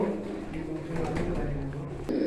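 Soft, low cooing of a pair of high-flyer pigeons repeats close by over a faint background murmur.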